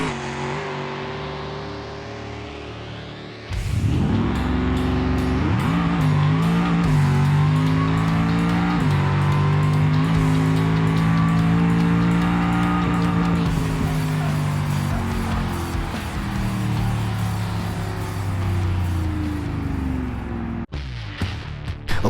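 Gavel BlueBu drag car in the BeamNG driving game roaring off the line after a quiet idle, its engine note climbing and holding loud and close through a long high-speed run with tire noise, cutting off near the end.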